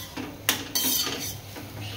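A spoon stirs a ridge gourd vegetable curry in a pan, giving a few distinct metallic clinks and scrapes against the vessel over a soft background, with no speech.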